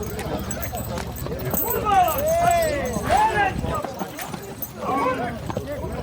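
Horses' hooves clip-clop during the 2021 Straparijada horse parade at Gornja Mravica as the horses file into an arena, largely buried under nearly constant loud voices and announcer-style talk.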